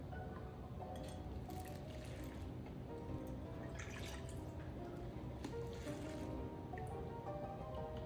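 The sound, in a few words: ladling au jus sauce into a container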